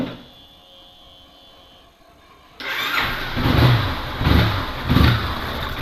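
A Yamaha Fazer 250 motorcycle engine, somewhat dirty, cranks and starts abruptly after a quiet stretch, then idles close to the microphone with a few throttle swells, no talking over it.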